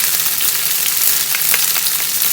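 Shrimp, rice noodles and pad thai sauce are stir-fried in a hot pan, producing a loud, dense, unbroken sizzle with scattered crackling bursts close by, no talking.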